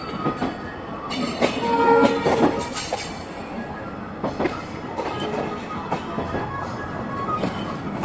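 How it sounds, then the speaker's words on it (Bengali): Sagardari Express passenger train bound for Rajshahi clattering along the rails, a steady loud rumble from inside the carriage with repeated wheel clacks and a brief high squeal, no voices. "ট্রেনের সেই যে ঝকঝক শব্দ সেটা কিন্তু আমরা শুনতে পাচ্ছি"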